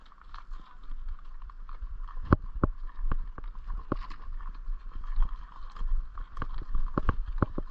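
Horse hooves clip-clopping on a Montana trail ride, sharp irregular knocks repeating through steady outdoor noise, with a few voices calling out nearby.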